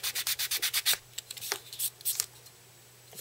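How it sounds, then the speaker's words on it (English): Sanding glue off an RX-78-2 plastic model part: quick rhythmic rubbing strokes, about nine in a row, close and crisp, followed by a few scattered lighter scrapes and brief handling noises. "so I'm going to go ahead and sand that flat"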